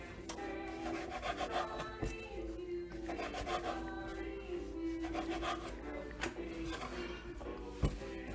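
Knife rasping and sawing through soft veggie bread roll dough on a kitchen surface, a run of close, steady rubbing strokes with a few sharper ticks.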